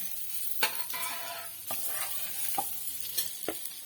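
Onion paste sizzles in a pan for kadai paneer, a continuous frying hiss broken by several sharp scrapes of a spoon stirring against the pan.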